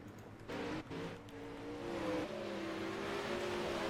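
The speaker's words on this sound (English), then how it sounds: "The number 93 of Chris Roberts rolls out onto the racetrack" Engines of 360 sprint cars rumble and rev steadily as they roll out onto the Lanier racetrack, a continuous mid-distance motor drone with rising pitch and no talk over it.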